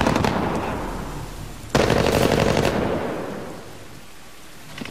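Automatic gunfire rings out in the Medal of Honor Warfighter video game, opening with a steady, fairly loud rattle, then a sharp, heavier burst at about two seconds that tapers off into a lower, fading rumble.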